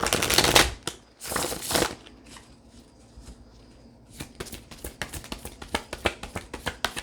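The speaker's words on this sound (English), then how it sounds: "this is hurting my hand to shuffle" Tarot cards being shuffled by hand, with two loud riffling bursts up front, a quieter pause, then a run of rapid, crisp card taps and slaps close to the microphone.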